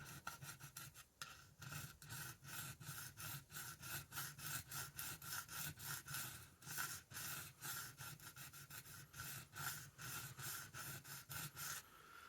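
A blade is rubbed back and forth on a 400 grit diamond sharpening stone, giving steady rhythmic rasping strokes that repeat at an even pace, close and moderately loud, with no talking.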